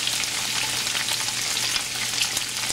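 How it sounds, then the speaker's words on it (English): Steady, close crackling sizzle of bacon and tofu frying in hot bacon grease, continuous with tiny popping bursts throughout. "it's sizzling and cooking really, really nicely with the bacon grease"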